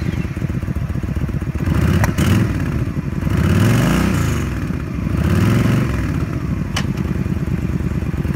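A used 2011 Yamaha Stryker 1300 V-twin custom cruiser motorcycle runs close by with a loud, throbbing engine, revving up and easing back a few times between idles.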